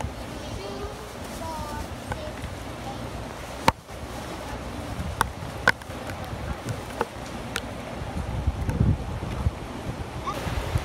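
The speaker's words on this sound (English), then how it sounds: "That winds are blowing so strong from the south." Strong hurricane wind blowing hard from the south during Hurricane Maria in Puerto Rico, a constant loud roar and rush of air buffeting the microphone, with occasional sharp knocks and bangs in the gusts.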